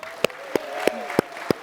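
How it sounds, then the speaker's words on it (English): Five sharp, evenly spaced claps ring out at a conference general session, steady and close, over a faint background hum. "Another round of applause for Sharon Kroc."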